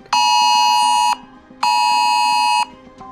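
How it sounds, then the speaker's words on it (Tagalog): A phone's emergency typhoon warning blares loudly and up close, two long steady electronic tones of about a second each separated by a short gap, with a faint pulsing buzz beneath. "Biglang nag-alarm ng tuloy-tuloy yung phone ko"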